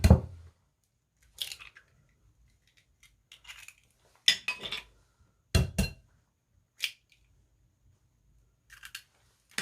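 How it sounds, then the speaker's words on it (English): Three eggs cracked into a bowl, sharp brief taps and cracks scattered in separate clusters with silence between them, close and fairly quiet. "I'm gonna crack these 3 eggs into a bowl"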